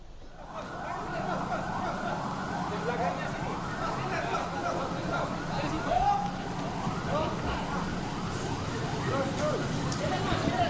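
Ambulance sirens from a convoy of 24 ambulances carrying crash victims to a hospital in Depok, West Java, wailing steadily and fairly loud through the whole stretch over traffic noise, with no talk.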